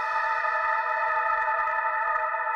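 A screamy a cappella vocal sample drenched in heavy reverb holds as a steady sustained tone with a bright, washed-out tail, alone without other sounds.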